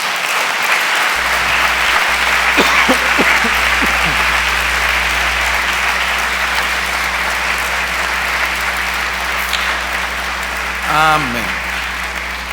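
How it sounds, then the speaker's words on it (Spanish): A church congregation gives loud, sustained applause to the Lord after a sermon. One voice speaks briefly near the start, and sustained tones and a short whistle-like sound rise through the clapping. "Démosle un fuerte aplauso al Señor"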